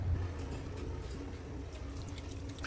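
Tamarind water, squeezed from a lemon-sized ball of tamarind, pours steadily into a cooking pan with a soft, continuous liquid trickle and low background hum.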